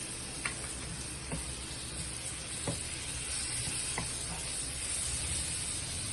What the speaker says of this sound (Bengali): হালকা একটু যখন গার্লিকটা ভাজা হয়ে যাবে, বাটারে স্মেল আসবে